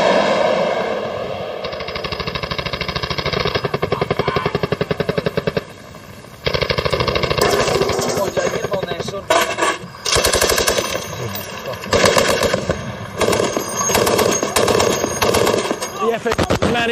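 Loud, sustained machine gun fire in an Afghanistan firefight hammers on in long rapid bursts, broken by brief pauses and ragged gaps toward the end, close and dominant throughout.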